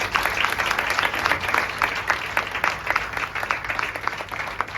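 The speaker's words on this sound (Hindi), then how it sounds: "तालियां जरूर आप बजाएंगे।" An audience applauds a musician on his 61st birthday, a continuous crowd of clapping with distinct individual claps standing out in a steady rhythm throughout.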